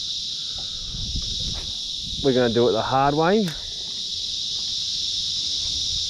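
Cicadas drone loudly and continuously outdoors beside canals, a constant high shrill buzz running through the whole stretch, while someone speaks briefly in the middle.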